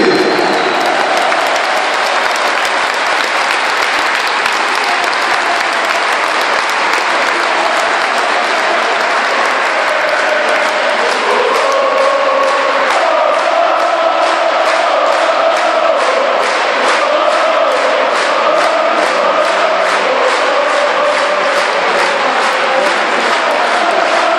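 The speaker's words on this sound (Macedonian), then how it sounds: "Огромен аплауз за Гере, който е фотографския клуб!" A large crowd applauds continuously at a gathering marking a famous football victory over Real Madrid, loud sustained clapping throughout, turning into a steady rhythmic clap in the second half with a few voices shouting over it.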